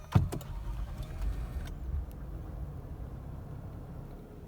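A 2010 Lexus ES350 with 170,000 miles starts up, a quick crank catching at the outset and then settling into a quiet, steady idle heard up close.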